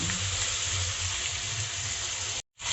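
Adobo meat sizzling and frying as it browns in a pan, a loud steady hiss with light stirring, cut by a short silent gap near the end.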